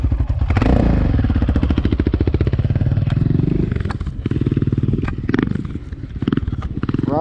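A motorcycle engine roars close by, revving hard and then settling into a rough, pulsing idle with clattering thumps, loud throughout.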